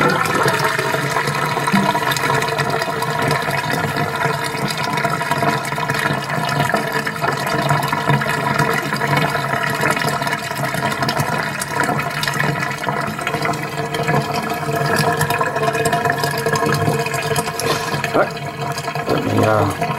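Water pours and splashes steadily over a Samsung Note 2 fitted with a Red Pepper case, a continuous gushing stream that runs loud for the whole stretch.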